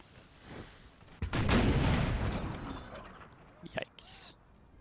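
Cannons firing in a Russia versus France battle video game: a heavy, booming blast followed by rolling rumble and a few sharper distant reports, with faint background noise.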